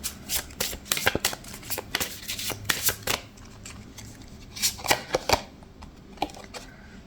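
Tarot cards are shuffled and picked by hand in a close, crisp run of riffling flicks and soft slaps, coming in uneven bursts with short pauses between them.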